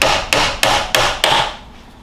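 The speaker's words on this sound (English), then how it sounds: "hammer those into the door" Five sharp hammer blows drive bradawls into a door while it is being hung, evenly spaced about a third of a second apart, close and loud, each strike ringing briefly before the next.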